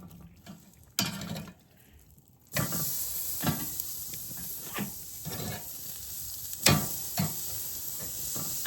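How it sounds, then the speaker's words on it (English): Ribeye steak searing directly over the open flame of a Big Green Egg ceramic grill, a steady bright hiss and sizzle that jumps up suddenly and carries on, with a few sharper crackles and pops along the way. "We're gonna put the steak right on the flame."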